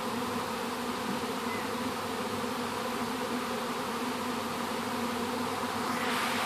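Bees buzz steadily near an open bedroom screen door, a dense continuous drone that holds at an even level throughout with no voices.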